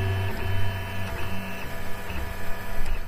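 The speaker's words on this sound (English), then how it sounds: "A 3D printer is just like a 2D printer," A 3D printer runs steadily up close, its stepper motors whining through short shifting tones and small ticks at an uneven rhythm, with no talking.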